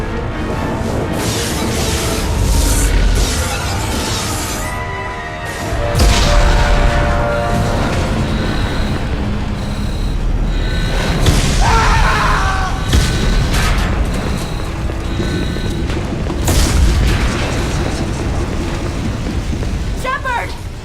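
Explosions hit a spaceship hull during an attack in the Mass Effect 2 video game, heard as heavy booms and rumbling blasts over a constant roar, with a burst of crackling debris and faint voices in the mix.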